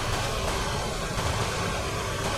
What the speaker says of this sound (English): The AC on, engine running right now.